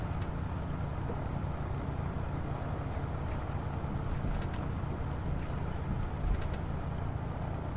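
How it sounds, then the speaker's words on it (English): An A2A Cessna C-172 in the Prepar3D flight simulator runs up for takeoff, its engine a steady low droning rumble with a broad airy wash over it, sustained and fairly loud with no voices. "We'll literally just rev her off and go."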